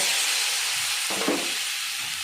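Steady hiss of ginger and spices frying in a pan, continuous and close, with a brief stirring scrape midway.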